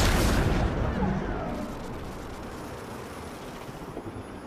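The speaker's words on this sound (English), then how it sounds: "Fire those EMP missiles!" EMP missiles fired in the Iron Man VR game, a heavy booming blast up front that rumbles and decays into a long roaring tail, loud and without talk.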